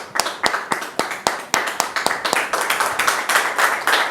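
Applause rises from an audience welcoming a guest, a man named Trabi Jean-Marc, onto a stage; sharp, fairly close claps start sparse and quickly thicken into steady clapping with a faint voice underneath.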